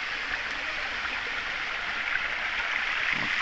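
Stream water rushing steadily near a forest waterfall, a continuous broadband hiss and gurgle that stays even and close throughout with no breaks.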